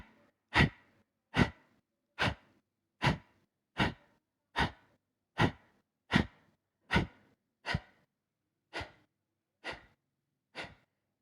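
Forceful yoga exhalations, thirteen sharp nasal bursts at a steady rhythm with silent passive inhales between, close and clear, fading slightly toward the end.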